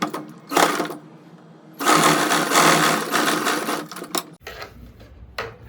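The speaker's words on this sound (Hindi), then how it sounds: "अब सिलाई लगाएंगे।" An electric sewing machine stitches a boat neck blouse in short bursts: a brief run, a pause, then a longer fast whirring run before stopping with a clunk and a final short burst.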